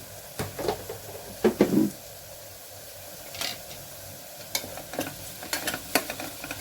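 Spring onion curry fries in a pan, with a soft sizzle under scattered clinks and scrapes of a spatula against the metal, close by, in irregular bursts.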